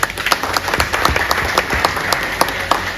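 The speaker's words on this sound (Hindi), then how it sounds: "साथियों के लिए एक बार जोरदार ताली बजाइए।" Applause from an audience at a state-level seminar in Ranchi, a steady wash of many hands clapping with crisp individual claps standing out, loud and sustained throughout.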